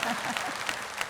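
An audience applauding at a Tamil New Year debate stage event in Coimbatore, a dense burst of clapping from a large crowd filling the short moment.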